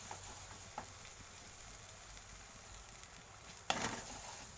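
Spice paste for tel potol fries softly in oil, a faint continuous sizzle with a few light taps and one louder stirring scrape near the end.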